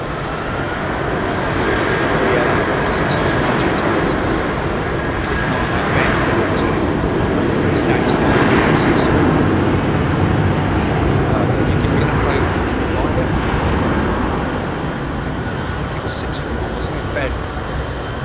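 Airliners departing runway 27R at London Heathrow Airport: a sustained, broad jet roar swells and fades over about eighteen seconds, heard from a distance, with people talking over it.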